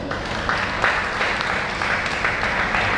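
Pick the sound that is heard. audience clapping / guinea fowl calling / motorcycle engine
audience clapping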